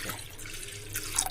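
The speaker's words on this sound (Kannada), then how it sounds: "ಯಾವ ವಾಟಗದ್ಲೆ ಬ್ಯಾಳಿ ತಗೊಂಡಿದೆ ಅದ ವಾಟಗದ್ಲೆ 2 ವಾಟಗ ನಾನು ನೀರು ಹಾಕ್ಲಿಕ್ಕತ್ತೀನಿ." Two cups of water pour into lentils in a cooker, making a short, soft splashing trickle close by with no talking.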